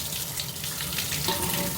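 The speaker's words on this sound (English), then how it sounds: "the last thing to do is to turn the water on, verify that the hot is hot and cold is cold" Water rushes steadily from a faucet just refitted with a new Moen Posi-Temp cartridge, a continuous close hiss and splash with no talking.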